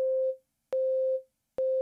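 FL Studio Mobile GMS synth playing a steady mid-pitched tone on the Throat waveform, three short buzzy notes cut off abruptly with brief gaps between them, clean and isolated.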